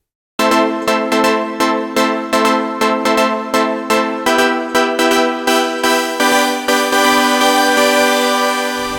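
The Using synth preset from the CamelPhat producer pack plays as a rhythmic run of bright, repeated plucked chords, loud and up front, pulsing steadily through the whole stretch with no voices.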